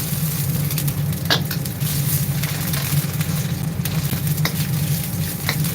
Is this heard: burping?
no